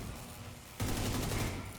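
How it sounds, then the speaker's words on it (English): Explosions burst in the Battle for Brooklyn video game, a sudden loud rattling fusillade that cuts in partway and holds as a dense crackling roar. "So these exploded."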